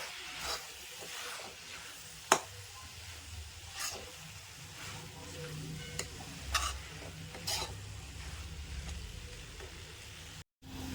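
Banana flower with turmeric and chili powder sautés quietly in a pan, a soft frying hiss broken by occasional spatula scrapes and knocks, fairly faint throughout.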